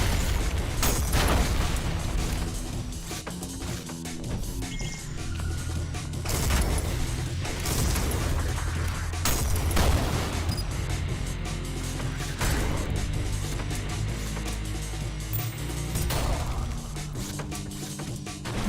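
Shotgun projectiles parried into explosives in the video game ULTRAKILL, heard as repeated booming blasts and sharp pops over mechanical clanks and a steady low game soundtrack, loud and continuous throughout.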